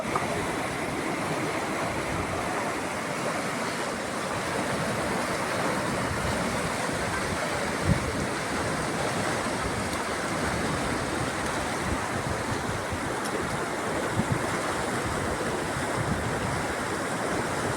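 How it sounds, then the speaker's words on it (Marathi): A steady, broad roar of rushing floodwater near a river and crop fields fills the whole stretch, unbroken and loud, with occasional faint knocks. "हे बघा अशा पद्धतीनं प्रचंड पाणी येत आहे"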